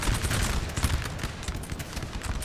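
Musket volleys from the Napoleon Total War game's 1808 Battle of Zornoza between Spanish and French infantry: a continuous crackling fusillade of overlapping shots, moderately loud and unbroken.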